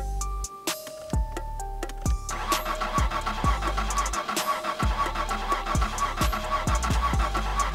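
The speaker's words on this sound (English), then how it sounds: "let's start the car." A car engine in the driving game My Summer Car cranks over and starts, then settles into a loud, steady rumbling idle with rhythmic low pulses throughout, no talk over it.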